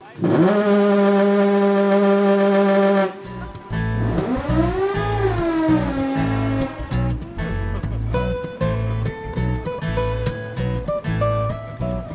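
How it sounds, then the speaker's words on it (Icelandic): A recently restored lighthouse foghorn in eastern Iceland blares a long, loud, steady harmonic tone through the fog for about three seconds, then cuts off, leaving music playing. "þar er auk ljósmerkis þokulúður sem nýlega hefur verið gerður upp"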